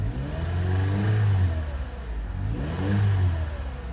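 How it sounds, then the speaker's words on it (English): A Chevy Cobalt engine with a random misfire fault revs up twice in a row, each throttle blip rising and falling in a smooth, strong mechanical surge, heard up close with no talking. "I gave a gas, rev the engine up"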